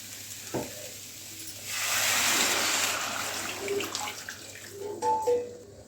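Water hits a hot pan of frying bhakur fish curry and sets off a loud sizzling burst that lasts a second or two. It fades to a softer hiss with light stirring clinks and no talking.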